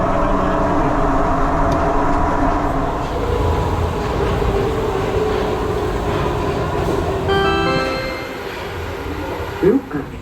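Prague metro 81-71 train on line B heard from inside a moving carriage: a steady, loud rolling rumble with wheel and rail noise that holds for the whole stretch, easing slightly near the end with a couple of brief knocks.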